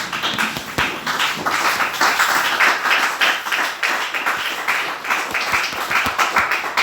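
A church congregation applauds during a Sunday sermon, a dense, sustained wash of many hands clapping close and loud, with sharper individual claps poking through and no speech over it.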